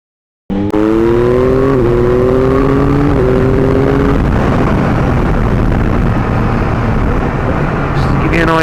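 A 2022 Yamaha MT-09 motorcycle is ridden at full throttle, its engine note climbing in pitch through several quick upshifts before dissolving into a loud, steady roar of wind and exhaust.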